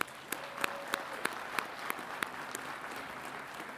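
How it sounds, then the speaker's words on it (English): A council meeting audience claps, a steady wash of applause with sharp individual claps standing out at a regular pace, moderately loud and close, with no talking. "One more time, let's give them a round of applause."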